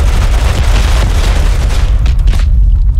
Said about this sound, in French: Là, j'ai lancé une grenade.